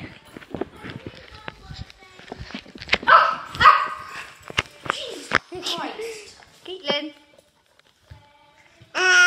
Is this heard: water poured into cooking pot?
no